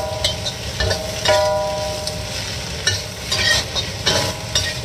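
Chicken and kangkong fry in a pan with a little oil, giving a steady close sizzle with intermittent clinks and scrapes of stirring throughout, and no talking.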